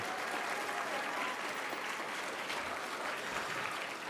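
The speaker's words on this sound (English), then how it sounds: "I just want everybody to applaud the students" An audience at a national student showcase claps steadily for the students, a soft, distant wash of applause lasting a few seconds without letting up.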